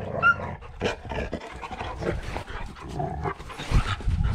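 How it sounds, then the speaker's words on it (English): A dog on a farm panting and snuffling close by, with rhythmic breathy puffs, a few sharp yips and some low growly noises throughout. "Let me get away from this dog."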